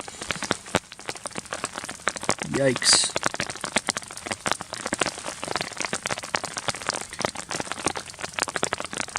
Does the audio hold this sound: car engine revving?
no